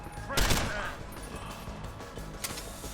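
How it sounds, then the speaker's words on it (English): A burst of gunfire at the start in Deus Ex: Human Revolution, then scattered distant shots over a steady background hum, with a voice faintly under it. "Gunshots!"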